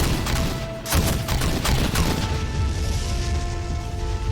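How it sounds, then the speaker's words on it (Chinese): Tank gunfire from a Type 99A during military training, a series of loud booming shots and blasts in quick succession, then a lingering rumble with a faint steady tone over it. "打得好，我看已经达到了99A 的射击距离极限。"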